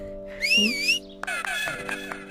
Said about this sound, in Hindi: तुमने इतनी जोर से सीटी बजाई जैसे सब समझ गए हो